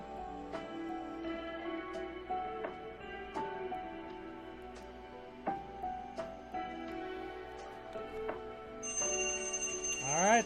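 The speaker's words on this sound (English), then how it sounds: "Alright, that's the alarm." An alarm rings with a repeated electronic bell-like tone pattern under a steady background, ending in a rising, brighter ringing burst.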